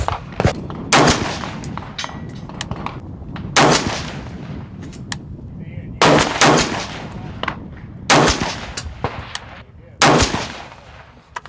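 Daniel Defense M4A1 Block II rifle firing AAC 77 grain open tip match rounds, five sharp, loud gunshots spaced about two seconds apart, each with a short ringing decay, over steady background noise.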